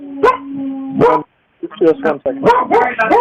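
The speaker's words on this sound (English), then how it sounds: "That's my dog." A dog barks during an online meeting, a few sharp yelps close by, mixed with a person talking over and between them, with one brief silent gap.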